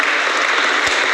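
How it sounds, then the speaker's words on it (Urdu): An audience claps loudly and steadily at a mushaira poetry gathering in London, a dense continuous wash of applause with no break or voices. "آپ کی زوردار تالیاں بجنی چاہیے"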